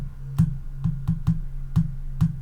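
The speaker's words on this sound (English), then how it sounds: "I've literally just made a rhythm by just tapping my finger on my mouse for my computer." Six soft, dull finger taps on a hard plastic computer mouse in an uneven rhythm, close up, over a steady low electrical hum from the computer's fan.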